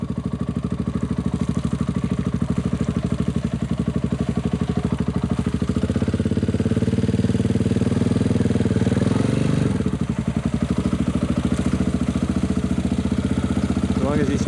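A motorcycle engine riding on sand in Little Desert National Park, loud and close with a steady throbbing drone that swells and strains in pitch midway before settling back.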